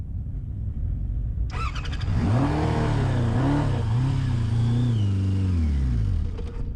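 A Voyager XII motorcycle engine revving and refusing to settle to idle: after a low steady rumble it snaps up into a loud whining rise, with the pitch wavering up and down several times before falling away.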